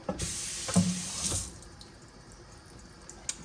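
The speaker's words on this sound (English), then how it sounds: "Let me wash this a little bit." Water from a kitchen faucet runs briefly over something being washed for spaghetti and meatballs, a short splashing burst that cuts off after about a second and a half, leaving quiet room tone with a faint drip or clink.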